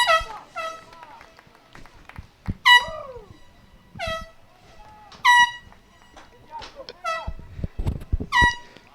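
Air horns blast again and again at a girls regional high school soccer playoff match: about seven loud, sharp toots from rival horns spread across the moment, over crowd noise and commentary.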